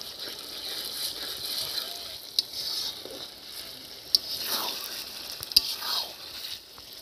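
Ginger and garlic being fried in a pan at an outdoor village picnic, giving a continuous sizzle with a few sharp clinks and scrapes from stirring.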